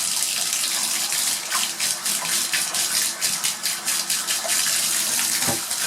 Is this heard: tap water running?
yes